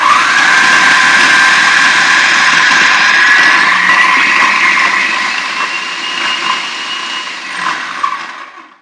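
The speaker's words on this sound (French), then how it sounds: "Alors ici, j'installe mon mélangeur." A kitchen blender whirs loudly as it mixes energy ball ingredients, a harsh motor roar holding steady for several seconds, then labouring and shifting pitch before cutting off.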